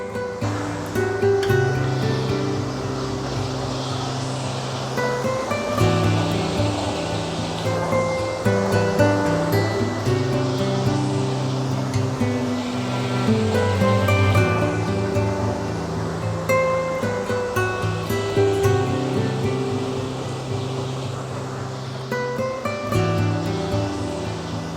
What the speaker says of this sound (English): There's a series of falls at East Gilbeck.